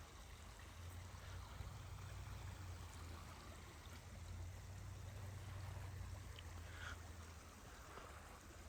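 A creek flows beside a bridge outdoors at night, a faint steady rush and trickle of water that continues evenly with no talking.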